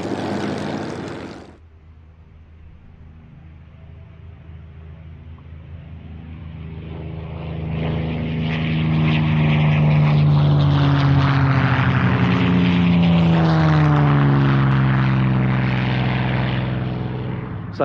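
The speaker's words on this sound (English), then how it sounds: "running in the P-51D Mustang and the Spitfire 9." A P-51D Mustang and a Spitfire Mk 9 propeller fighter run in together at an airshow display, their piston engines rising from a distant drone to a loud, sustained roar that swells as they pass close.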